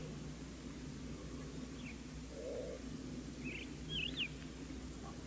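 Small desert birds such as larks, Saharan buntings and sparrows gather at a broken cistern, giving a few brief, faint chirps and whistled calls over steady wind-like background hiss.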